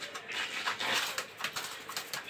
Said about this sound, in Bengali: সবই হাই ফ্লাই কবুতর